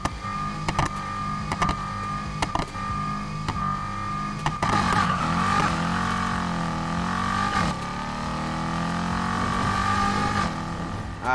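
A car engine in Need for Speed Heat bounces against the redline before a drag launch, with a pulsing rev-limiter stutter that gives way to a loud, sustained roar rising and falling in pitch as gears change.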